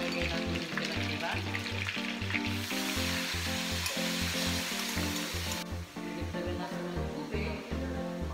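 Pork sizzles and fries steadily in a pan with meat sauce, a loud continuous crackle under a repeating music bed and no talk.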